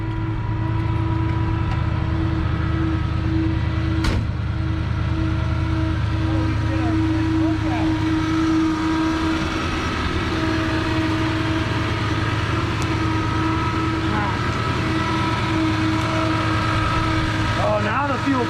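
A Dodge D100 barn-find pickup engine runs steadily with its fuel pump now working, a loud continuous low idle drone with no change in pace.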